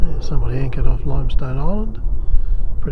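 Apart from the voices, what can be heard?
No everyday noises stand out.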